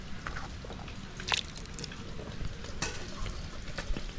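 Onions go into curry frying in a pan during village cooking. A soft, continuous crackling sizzle carries a few sharp scraping clicks and rustles, all fairly quiet.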